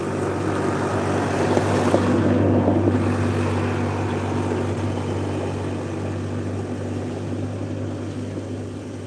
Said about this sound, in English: That's the golf cart going by again.